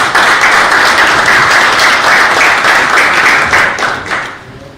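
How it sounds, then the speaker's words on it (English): A congress audience gives loud, dense applause for the honorary president of the European boxing confederation, a steady roar of many hands that holds for several seconds before tapering off at the end. "I want the warmest applause to the honorary president of the EUBC"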